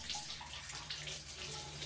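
Running water flows steadily while medicinal plants are washed clean under it, a continuous close splashing hiss with no talking.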